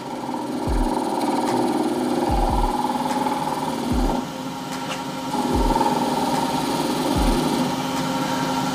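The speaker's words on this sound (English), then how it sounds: "I'm going to go in with the carbide cutter now." A carbide cutter works a shaving brush blank spinning on a wood lathe, giving a steady machine whine with a harmonic hum, broken by several low thumps where the cutter bites the blank.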